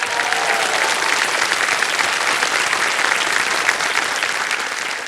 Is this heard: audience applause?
yes